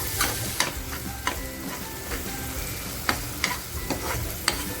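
Green chillies drop into a hot pan with tomatoes for a dry prawn and fenugreek stir-fry, giving a steady crackling sizzle broken by sharp scrapes and clacks of stirring, close up and with no voices.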